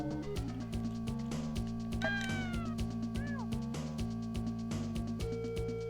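Lemmings in the Lemmings video game let out a few brief, wavering cat-like meowing cries over steady, rhythmic game music.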